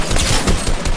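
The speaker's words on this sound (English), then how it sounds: "Sick sniper shot" A sniper rifle shot in the Fortnite video game sounds as a loud, dense burst of gunfire, brief and close, filling the whole moment.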